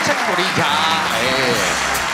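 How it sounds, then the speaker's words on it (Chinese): A television variety studio audience claps steadily in a brisk wash of applause, with voices talking loudly over it throughout. "掌声鼓励他哎"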